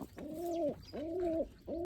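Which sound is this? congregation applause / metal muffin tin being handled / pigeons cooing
pigeons cooing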